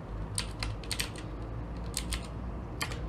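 Keys clatter on a computer keyboard in short clusters of quick clicks with brief pauses between them, close and fairly quiet over a low steady background hum.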